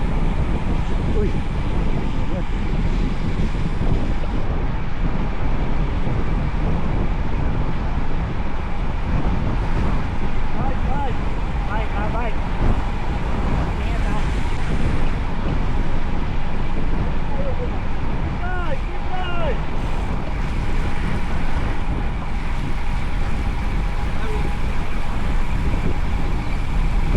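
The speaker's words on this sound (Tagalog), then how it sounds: "Ay, grabe ang hangin." Strong wind roars steadily across the microphone during a group road bike ride, a loud, continuous buffeting rush that fills the whole stretch with no break.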